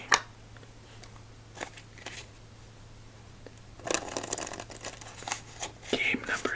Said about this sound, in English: let's shuffle up our deck and continue on with our journey